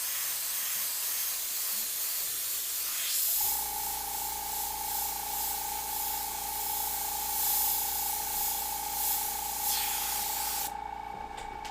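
Steady hissing spray of an airbrush runs continuously, with a constant high whine under it, after a few seconds of softer rustling.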